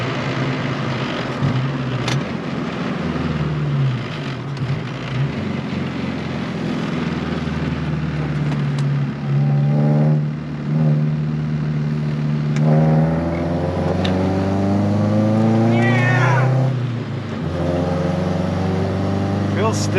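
A Honda Civic's engine hums and rises in pitch as the car takes a roundabout at part throttle, heard from inside the cabin, steady and fairly loud, with someone talking over it.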